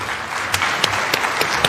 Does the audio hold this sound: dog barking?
no